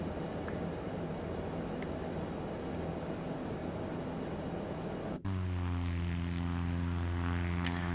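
An Aerobask DA20 propeller plane in X-Plane 12 drones steadily with loud broadband engine noise, then shifts abruptly partway through to a smoother, tonal propeller hum with strong harmonic bands, continuous and close.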